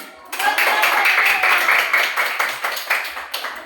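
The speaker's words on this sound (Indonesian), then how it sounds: "Betul, tepuk tangan." A group of students in a classroom clap their hands together in a brisk burst of applause, close and lively, fading slightly toward the end.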